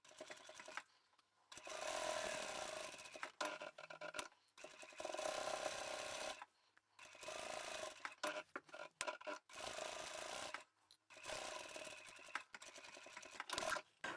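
A sewing machine backstitches across the top of a bag pocket, running in several short bursts separated by brief pauses, with a steady close mechanical whir.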